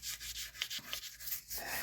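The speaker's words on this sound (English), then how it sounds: "if he's sanding that with his hand now, that's uneven" Someone hand-sands a shellac finish on swamp ash with 400-grit paper, making soft, quick back-and-forth rubbing strokes in a steady rhythm, close and fairly quiet.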